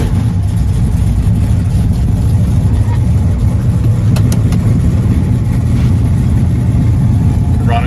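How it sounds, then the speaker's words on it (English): A 1967 Chevelle SS with a 427 engine idling just under 1,000 RPM, a steady, loud, deep rumble that continues without a break. "Start up our 67 Chevelle SS with 427."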